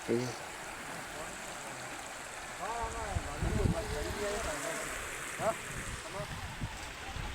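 Steady broadband rush of a village river swollen by heavy rain flowing outdoors, with voices talking over it in the middle and later part.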